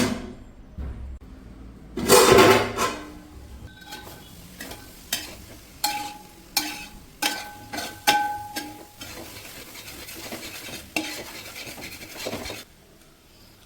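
Soya chunks are stirred in a pan over low to medium heat, with a spoon scraping and knocking at a steady rhythm over a gentle sizzle, loud and close, with no talking.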